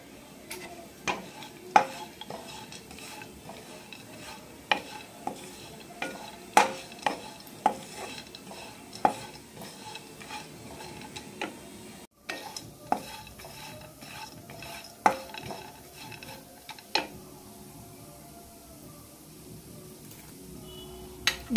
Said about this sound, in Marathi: मखाने मी भाजून घेते